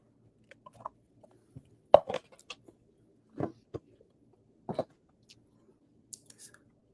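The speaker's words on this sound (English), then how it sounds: "I really did enjoy the sound of the bite" Silky Gem crystal candy is bitten and chewed up close. A scattering of faint, sharp crunches and clicks is spread across an otherwise quiet stretch.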